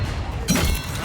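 A Confringo spell blast in Hogwarts Legacy bursts suddenly about halfway through as a sharp, crackling explosion. Game voices and combat noise are heard around it.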